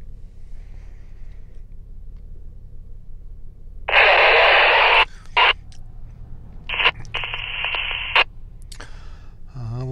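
A GMRS two-way radio receives a transmission from 2.91 miles away, with short bursts of harsh static and squelch breaking through a quiet background, fairly loud and choppy, with no clear voice.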